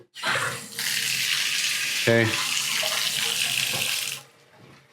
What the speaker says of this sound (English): You got your shower. I would turn it on, but you know what? I'll turn it on.